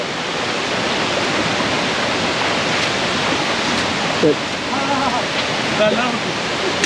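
A waterfall of clear, ice-cold water gives a steady, close, full roar throughout, with faint voices briefly audible under it near the end.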